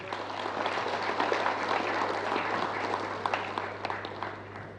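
Audience applause fills a hall at the Ghana Club 100 Awards Night, a dense, steady wash of many hands clapping at moderate loudness for the whole stretch, with no one speaking over it.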